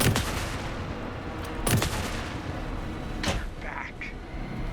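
Gunfire in the video game Alan Wake 2: a dense, continuous clatter of shots with a few sharper louder bursts, layered over a busy rumbling game soundscape.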